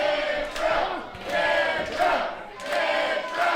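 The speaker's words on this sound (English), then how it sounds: "The crowd's starting to come alive for Cantrell" Wrestling crowd at a Coastal Empire Wrestling show cheering and yelling for Cantrell, a steady roar of many voices swelling in waves with shouts rising above it.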